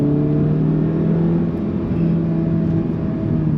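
A modified turbocharged Audi S1 hatchback engine holds a steady, droning note with a low hum and a whirring overtone, loud and close throughout, with no talking.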